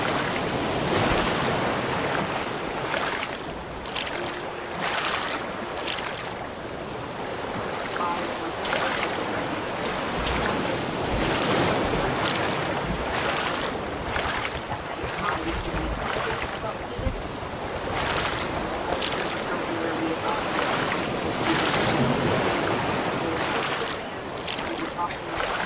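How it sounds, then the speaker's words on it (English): Raft in the video game Raft being paddled across the open ocean, waves washing and wind rushing in a steady, moderately loud wash with rhythmic splashing surges, while people talk over it. "I'm paddling us there."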